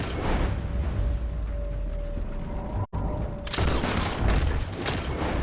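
Gunfire in a Red Dead Redemption 2 shootout with the United States Army, several loud booming bursts and mechanical clatter, a brief silent gap midway, then sharper repeated shots near the end.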